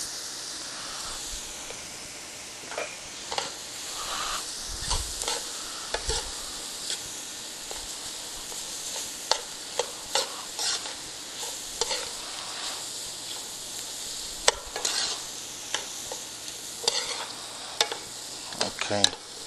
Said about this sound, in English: And then I'm going to add the arborio rice.